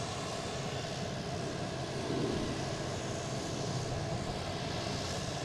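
Delta Embraer E-175 regional jet departing Boston Logan International Airport, a loud continuous roar of jet engines at takeoff power, broad and steady, swelling slightly midway.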